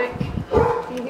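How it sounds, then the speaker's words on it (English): A dog across the street barks a few times in short yaps over a low New York City street background, with some voices and rustling mixed in close by. "the dog across the street is barking at Jade."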